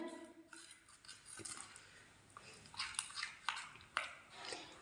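A spoon stirs homemade henna hair dye in a bowl, giving faint, irregular scrapes and soft clinks with a few sharper taps toward the end, all quiet and close.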